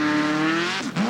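A jet sprint racing boat powered by a 400 Chevy engine screams past at high revs, a sustained tonal whine that dips and shifts in pitch as it passes close by.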